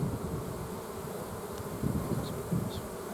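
Honey bees buzz in a low, continuous drone, close and fairly quiet, with a few individual bees passing by.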